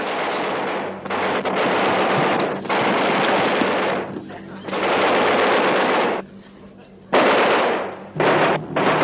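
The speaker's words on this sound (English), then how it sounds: "Fire!" Bursts of machine-gun fire from a 1960s TV sitcom battle scene rattle loud and close in long volleys separated by short pauses, with shouting voices mixed in.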